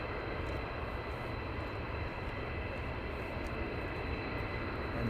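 Military fighter jets taxi at RAF Lakenheath, heard as a steady, distant engine roar and rumble with no voices over it.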